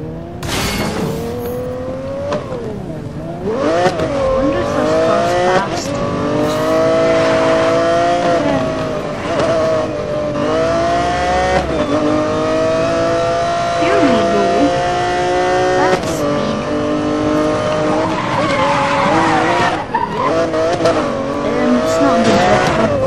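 A race car in Need for Speed Most Wanted revs hard and shifts through gears, with tire squeals and skids, the loud engine whine continuous throughout while a voice talks over it.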